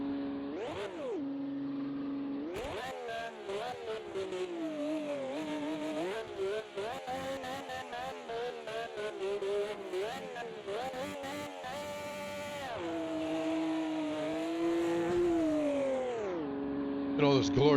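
A V12 Ferrari Formula 1 car in a VR racing game on the 1971 Nordschleife screams through rising and falling revs, with steady high-pitched engine whine, gear shifts and repeated acceleration bursts, loud and close throughout.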